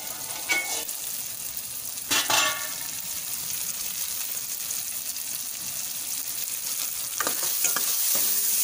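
Onions and spices sautéing in a pan for a prawn kulambu, just before the prawns go in: a continuous close sizzle with a few sharp clatters of stirring.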